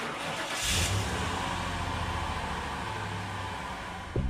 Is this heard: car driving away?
yes